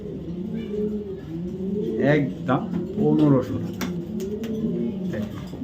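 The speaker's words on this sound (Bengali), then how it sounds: "কবুতরটা অনেক গরম সারা দিন ডাকে" A racing pigeon, a black tiger racer, coos in low repeated bursts. Someone talks over it the whole time.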